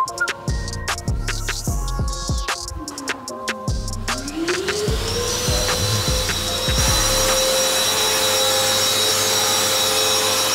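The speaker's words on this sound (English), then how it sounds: "So the taping and jointing is done. Dudek's just sanding it down." Power sanding of taped and jointed plasterboard walls during a building refit, a continuous machine whine with scraping and intermittent knocks, close and loud, with no speech.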